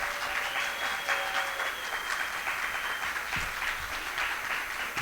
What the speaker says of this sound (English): Can we get a round of applause for the people who are setting us up and got us everything together?